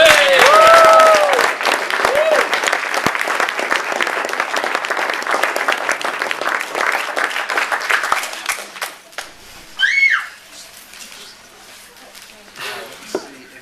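Wedding guests break into loud, dense applause that holds for several seconds and then thins out and fades, with a brief burst of cheering or voices near the end.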